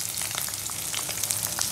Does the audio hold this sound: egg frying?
yes